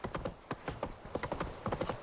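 Roach the horse gallops in The Witcher 3, hooves clip-clopping in quick, uneven bursts close by, with no talk over them.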